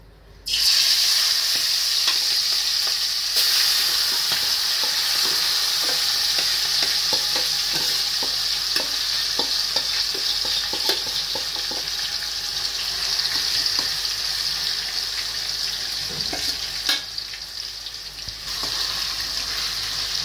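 Chicken fries in oil in a pan, giving a loud, continuous sizzle close by with faint crackles and occasional stirring noises running through it, and no talk.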